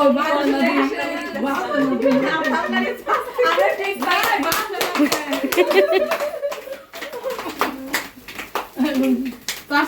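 A family claps together at a cake cutting held to celebrate reaching one million subscribers, with quick bursts of hand claps mixed under lively close talk, children's voices and scattered laughter.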